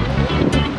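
Loud, continuous rush of strong ocean surf close by on the back side of Boracay, churning and roaring with wind buffeting the microphone throughout.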